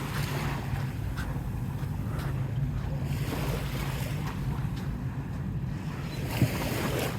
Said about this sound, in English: The ferry's going to go now.